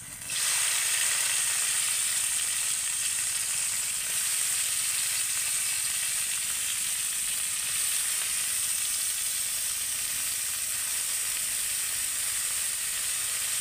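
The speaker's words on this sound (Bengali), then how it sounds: "যেহেতু আমার বটবটি আর গাজর রয়েছে সেজন্য কিন্তু আমি একটু হালকা করে তেলের মধ্যে ভেজে নিচ্ছি" Grated vegetables and carrot fry lightly in hot oil for an egg momo filling, giving a steady, even sizzle that runs unbroken and fairly loud from start to finish with no voices.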